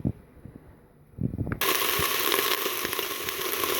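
Onion and oil sizzle in a Cookeo multicooker on browning mode, starting after a few soft knocks and then becoming a steady, loud, close frying hiss that holds without a break.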